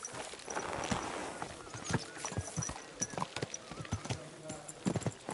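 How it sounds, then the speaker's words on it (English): In the video game Kingdom Come Deliverance 2, a horse's hooves clip-clop at a steady walking rhythm, close and moderately loud, while characters talk over them. "Get on your horse."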